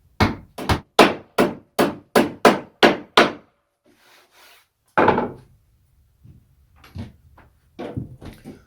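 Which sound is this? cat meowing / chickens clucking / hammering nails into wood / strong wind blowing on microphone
hammering nails into wood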